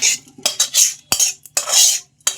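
Cooked chicken biryani meat being spooned over fried potatoes in a pot, a handful of loud metal clinks and scrapes of a ladle against the vessel in short bursts, with no speech.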